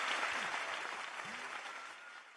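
Applause from an audience at a peace festival on married love, steady and dense throughout and fading slightly toward the end, with faint voices underneath.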